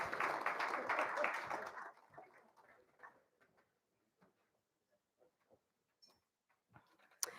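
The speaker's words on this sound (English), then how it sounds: "Let's give them a round of applause one more time." Conference audience applauding: dense clapping for about two seconds, then fading into scattered claps and faint murmurs in a quiet room.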